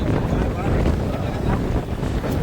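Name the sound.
strong wind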